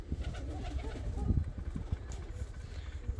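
Fancy costume pigeons coo in a low, burbling run of calls that sounds near and fairly full, with a faint engine-like hum in the background.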